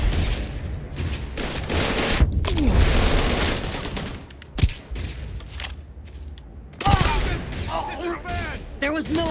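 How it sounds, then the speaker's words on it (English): Gunfire in the video game Starfield: Shattered Space, a dense battle of rapid shots, booms and thuds with bursts of automatic fire, and a voice talking over it. "Oh, I just shot Emma right in the face."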